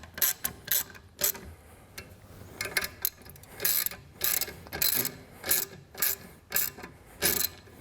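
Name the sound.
9/16 ratchet tightening bolts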